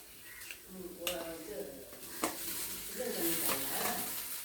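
Grated coconut sizzles and crackles in a hot frying pan while a spoon stirs and scrapes against the metal, with a few sharp clinks.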